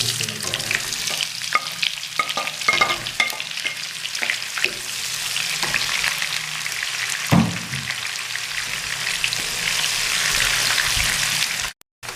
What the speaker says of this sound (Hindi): अब इसमें डाल देंगे प्याज।